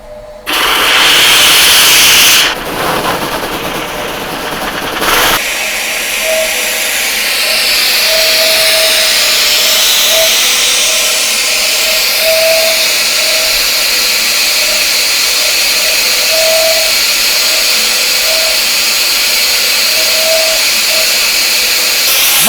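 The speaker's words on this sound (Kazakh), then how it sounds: "Енді парды ашамыз." A steam generator apparatus lets out a loud, steady hiss of escaping steam after a rough rushing start, holding for about twenty seconds with a faint tonal whine running under the continuous roar.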